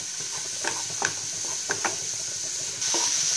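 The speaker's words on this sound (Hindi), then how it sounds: "सिर्फ हल्का हल्का ही हम फ्राई करेंगे।" Carrots and bell peppers fry lightly in a pan with a steady soft sizzle, and a spatula stirs through them in a few faint scrapes and taps; the sizzle grows louder near the end.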